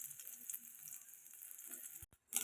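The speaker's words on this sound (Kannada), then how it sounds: "ಎಣ್ಣೆ ಕಾದಿದೆ. ಇದಕ್ಕೆ ಸ್ವಲ್ಪ ಸಾಸಿವೆ ಹಾಕ್ಕೊತಾ ಇದ್ದೀನಿ." Mustard seeds crackle and sizzle in hot oil in a pan for tempering, a steady close hiss with light popping that cuts out briefly near the end before returning.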